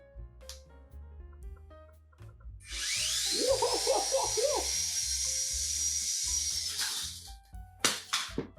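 A small cheap flying toy's electric motor switches on with a rising high-pitched whine that settles into a steady buzz for about four seconds before cutting off, while a person exclaims excitedly over it.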